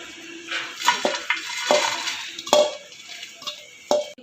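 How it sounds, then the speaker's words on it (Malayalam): Light brown fried coconut scooped from a pan into a vessel with a spoon, giving a series of close metallic clinks and scrapes at an uneven rhythm, with faint sizzle underneath. "ഇത് നമുക്കിതൊരു പാത്രത്തിലേക്ക് മാറ്റാം."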